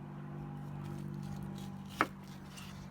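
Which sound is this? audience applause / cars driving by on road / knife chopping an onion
knife chopping an onion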